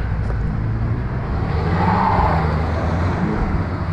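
A BMW M4 rolling in with a low, steady engine rumble, close and fairly loud, swelling slightly midway without sharp revs, with no talking.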